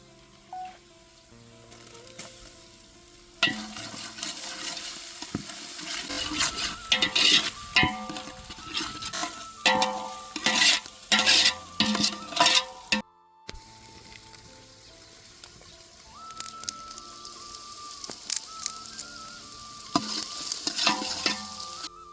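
Crushed ginger, garlic and chillies sizzling and frying in a pan with browned onions, a steady crackle with stirring scrapes, close and fairly loud, no talking.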